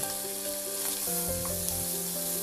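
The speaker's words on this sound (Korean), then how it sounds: "껍데기가 적당히 잘 익으면 야채를 넣고 잘 섞어줍니다." Pork and vegetables stir-frying in a pan for a low-carb dish, a steady close sizzle with stirring scrapes and clinks over a faint hum, no voices.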